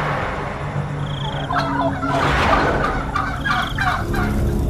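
A wild forest fowl calls in a series of loud, close, warbling gobble-like cries, repeating in bursts over a steady background.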